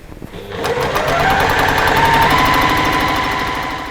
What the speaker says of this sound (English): I'm going to do a little back stitch just to hold.